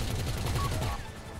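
Rapid automatic gunfire during a GTA heist shootout at the Humane Labs: a fast, rhythmic stream of shots rattles at moderate distance, then thins out, with a voice speaking over it.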